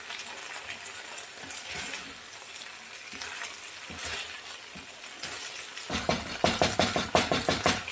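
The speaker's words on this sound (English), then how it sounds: "So I'm gonna fry a little bit" Fish sizzles and crackles in hot oil in a wok for Sichuan fish, a steady fry that swells into louder, sharper popping and spattering near the end, close and without talk.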